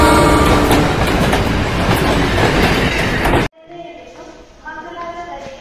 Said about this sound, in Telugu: మా బ్యాక్గ్రౌండ్ లో నిజంగా ఏదో రైల్వే స్టేషన్ లో అనౌన్స్మెంట్ ఇచ్చినట్టు ఇస్తుందిగా.